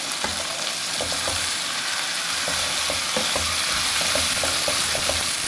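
Potatoes and peas frying together in a pan, a continuous loud sizzle broken by repeated spoon clicks and scrapes against the pan as they are stirred, no talking.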